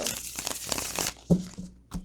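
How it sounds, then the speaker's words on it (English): A tarot card deck being shuffled close up, with rapid papery riffling and crinkling followed by a couple of soft taps as the cards settle. "So we are going to shuffle the deck and see what cards come through."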